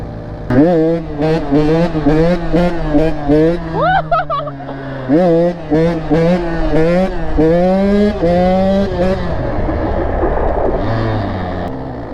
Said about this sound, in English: So right now, we're on a 85 KTM two-stroke